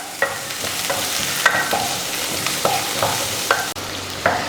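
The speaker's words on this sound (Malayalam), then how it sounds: "ഇനി ഞാൻ അതിനകത്തോട്ട് എടുത്ത് വെച്ചിരിക്കുന്നത് സവോള ചേർത്ത് കൊടുക്കുകയാണ്. നന്നായിട്ടൊന്ന് വഴറ്റി കൊടുക്കുക." Sliced onion for a vegetable biryani sautés in hot sunflower oil, giving a steady close sizzle with periodic scraping stirs of a spoon against the pan.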